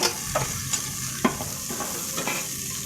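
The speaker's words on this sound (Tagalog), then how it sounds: "Lalagyan na po natin ang sibuyas." Onion frying in cooking oil in a pan, a steady close sizzle with a few soft stirring knocks, continuous and alone.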